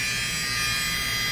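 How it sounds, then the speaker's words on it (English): A Conair rechargeable fabric shaver running, a steady high electric buzz that holds level and close for the whole short moment. "it's a rechargeable fabric shaver"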